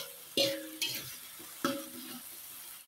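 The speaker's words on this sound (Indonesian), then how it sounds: "Ini kita akan aduk pemirsa." Sweet soy sauce is stirred into tempeh frying in a pan, making a few loud scraping spoon strokes over a constant sizzling hiss, close and alone.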